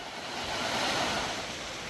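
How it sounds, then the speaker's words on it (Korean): Water pours in a steady, loud broadband rush inside a limestone cave, an underground waterfall and stream echoing continuously with no break or voices. "사방에서 세차게 쏟아지는 지하 폭포와 거대한 계곡물 소리가 청량하게 울려 퍼지는데요"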